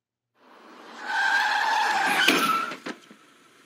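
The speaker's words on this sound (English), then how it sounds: "Is this a car wreck?" Tires screech in a long skid that builds and holds for over a second, then ends in short thuds of impact, a car wreck staged in a music video.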